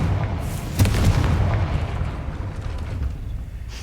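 A Confringo spell blast in the Hogwarts Legacy video game, a deep booming explosion with a sharp burst near the start, then a rumbling tail that fades off.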